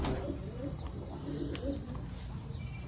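A female pigeon coos softly and repeatedly, low throaty calls close by over a steady background hum.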